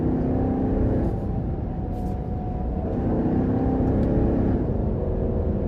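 A deep, steady 5.7 V8 rumble fills the cabin of a 2023 Dodge Durango R/T as it accelerates, a continuous low exhaust drone with a slight rise and fall, close and fairly loud.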